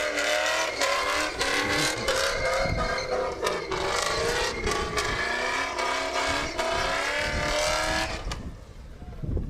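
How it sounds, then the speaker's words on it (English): A race car at Sebring Raceway, part of a Mustang round in a pro-am event, revs its engine loud and close for the crowd, a sustained rising and falling roar that fades near the end. "But out there revving for the crowd, hand out the window."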